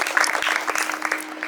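An audience bursts into loud, sustained clapping to welcome a doctor, many hands at once in a dense crackling patter from start to finish.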